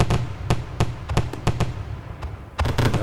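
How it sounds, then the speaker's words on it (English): Fireworks going off in a run of sharp, loud bangs, about a dozen broadband bursts spaced unevenly across a few seconds with brief gaps, then a denser cluster of cracks at the end. "Fireworks."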